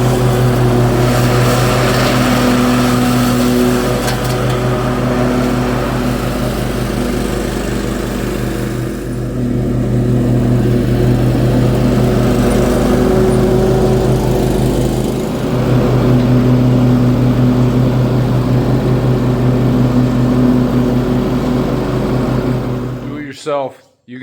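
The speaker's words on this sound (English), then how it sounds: "I think we're ready to mow." A riding or push lawn mower runs steadily while mowing after its deck was cleaned and refitted, a loud continuous engine drone with a low hum throughout, cutting off abruptly at the end.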